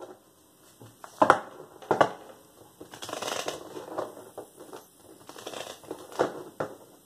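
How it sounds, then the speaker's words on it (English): Tarot cards being shuffled by hand, producing several short papery riffles and crisp flicks with uneven pauses, soft and close with no talking. "Cards don't want to shuffle."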